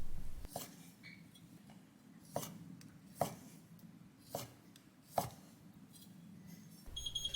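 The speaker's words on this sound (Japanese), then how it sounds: "ウインナー3本は斜めに3等分に切ります。" A kitchen knife slices three sausages diagonally into thirds on a cutting board, giving about six sharp, evenly spaced chops over quiet room tone, followed by a faint beeping at the end.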